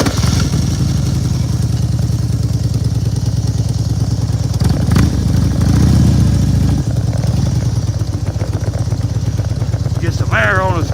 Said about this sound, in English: Let's see if we can get this old bike started.